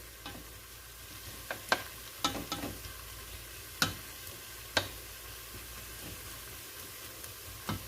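Beef salami stir-fries in a pot with a low, steady sizzle, broken by scattered sharp clicks and taps of stirring close by. Nobody speaks.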